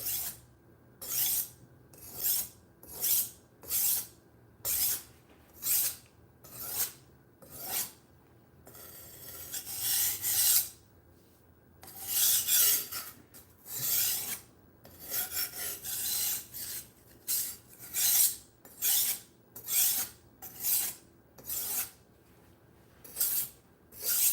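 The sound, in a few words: sharpening a budget knife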